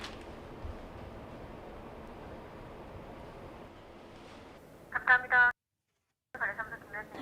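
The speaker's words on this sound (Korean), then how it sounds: "관리사무소에 전화를 걸어서 도움을 요청해보기로 했습니다" A telephone places a call to an apartment management office: after a stretch of quiet background hiss, ringing tones come through in two short bursts separated by a silent gap.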